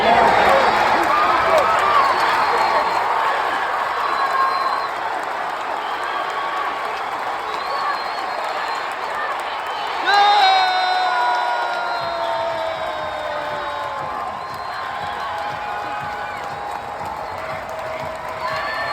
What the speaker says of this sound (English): he had fans going crazy and screaming to the top of their lungs